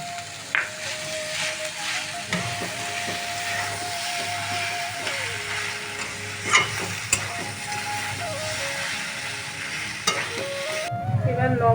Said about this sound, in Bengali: জলটা শুকনো করে নিয়ে একটু ভাজা ভাজা হয়ে গেল এবার এই পোস্ত এর উপরে দিয়ে দিলাম